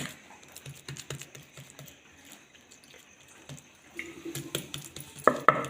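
Wet paratha dough being patted flat by hand, with soft irregular slaps and dabs that grow louder and quicker toward the end, close by and alone.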